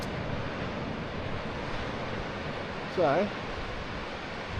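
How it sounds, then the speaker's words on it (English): Surf washes steadily onto a Portland beach with turquoise water, a continuous broad roar mixed with wind buffeting the microphone, and someone briefly speaks over it near the end. "I think we can honestly say, Tanya, this is a beautiful beach."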